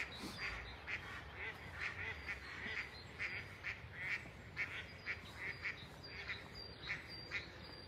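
Ducks gather at the water's edge in the park at Saint Savin, a protected natural area, quacking and honking in a steady, overlapping chatter that sounds soft and somewhat distant throughout.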